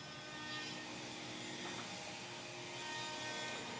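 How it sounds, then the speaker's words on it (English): A steady, droning machine whine fills the space, like a woodworking router running continuously in a workshop, with a constant broadband roar and no speech. "our normal router table that's being used right now, and thus all the noise"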